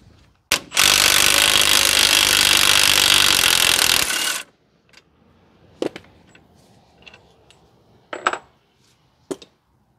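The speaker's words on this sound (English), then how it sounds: "So now remove the remainder of the bolts for the hub." A loud, sustained whir of a power tool removing hub bolts on a 2016 Ford F-150 4x4 for several seconds, followed by scattered metallic clinks and taps from handling parts.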